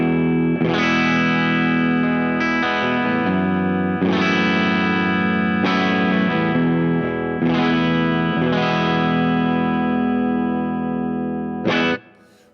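PureSalem Cardinal electric guitar on its bridge pickup, played through a Sheraton OTS Mini 20 amp, strums several loud overdriven chords that ring out and sustain, then cut off abruptly at the end.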